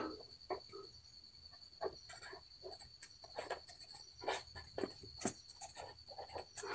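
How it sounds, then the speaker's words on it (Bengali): Pen writing geometry notes on paper, quick irregular scratchy strokes close by, set against a steady high insect chirr in the background. "আমি দেখো এখানে লিখছি"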